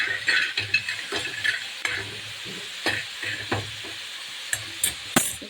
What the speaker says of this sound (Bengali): এখানে দেখুন আমি ডালের বড়ি ভাজা বসিয়ে দিয়েছি। আমি তেল ছাড়াই শুকনো একটু ভাজা করব।